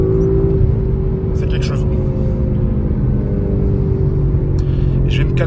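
An Audi RS5 accelerates on a road. The engine drones loudly from inside the cabin, and a few sharp crackles come from the exhaust. Someone talks over the sound.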